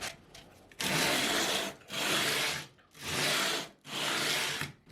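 Stainless steel guitar frets being leveled with a file or leveling beam: four loud, even rasping swipes in steady rhythm, close up, with short pauses between strokes and no talking.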